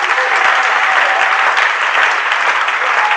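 A church congregation claps together in sustained, dense applause, loud and even throughout with no break.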